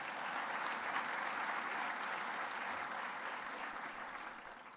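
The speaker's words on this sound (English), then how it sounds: "You can clap. Go ahead and clap." Sustained applause from an audience at a recruit class graduation ceremony, a dense, even wash of clapping that holds steady and fades slightly toward the end, with no voices on top.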